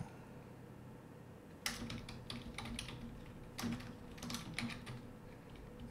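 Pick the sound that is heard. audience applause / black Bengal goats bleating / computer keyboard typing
computer keyboard typing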